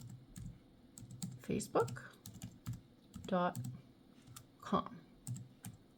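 Quick bursts of keystrokes on a computer keyboard as a web address is entered, close and clear, with a person speaking briefly between the bursts of typing.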